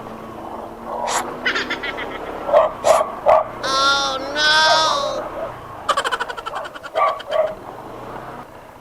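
Dogs bark repeatedly nearby, some yelps and whines mixed in, while a person calls out briefly between the barks.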